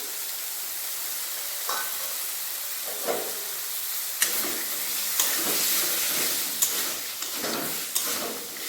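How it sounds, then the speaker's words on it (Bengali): Spices fry with a steady hiss in a wok. Midway the sizzle surges in loud bursts as green peas hit the pan, with stirring scrapes between them. "মশলা ভালোভাবে কষি নিয়েছি এরপর এতে দিয়ে দেবো কড়াইশুটি"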